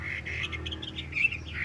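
Chinese hwamei songbird, a caged Họa Mi, sings in short bright chirps and trills over a steady low hum, fairly faint and alone without talk.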